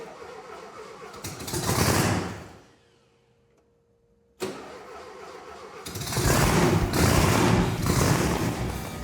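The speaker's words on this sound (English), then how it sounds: "I love the sound of Volkswagen engines." Volkswagen engine with a blower on a custom dune buggy turns over, dies off, then catches on a sharp start and settles into a loud, steady, raspy idle close by.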